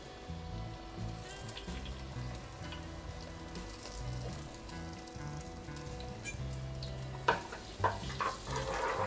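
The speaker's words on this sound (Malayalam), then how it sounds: "നമ്മൾ ഈ ചൂടായ വെളിച്ചെണ്ണയിൽ ഒരു 3 അല്ലി വെളുത്തുള്ളി, പിന്നെ ഒരു ചെറിയ കഷ്ണം ഇഞ്ചി, ഇത് ചെറുതായിട്ട് ഗ്രേറ്റ് ചെയ്ത് എടുത്തേക്കുന്നേ, അത് ഇതിനകത്തോട്ടിട്ട് കൊടുക്കാം" Grated garlic and ginger sizzle quietly in hot coconut oil for a vegetable chicken curry, a soft steady frying crackle with a few stirring clinks near the end.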